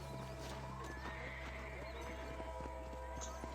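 A horse in the Western video game Red Dead Redemption neighs and whinnies with clip-clopping hooves over a steady game soundtrack and ambience, with voices talking through the scene.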